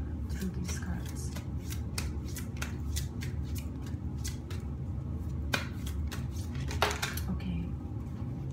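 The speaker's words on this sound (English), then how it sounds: "give me a moment to connect with this deck" A deck of oracle cards is shuffled by hand, giving a run of crisp flicks and riffling snaps in an uneven rhythm, close and fairly clear over a low room hum.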